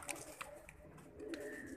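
Pigeons coo softly at a breeder's loft, a few brief low calls over a steady murmur of background noise.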